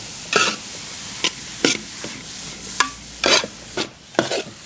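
Coconut sprout (pongu) is stirred and fried in ghee in a pan, giving several loud, close scraping stirs over a low, continuous sizzle, with no talking.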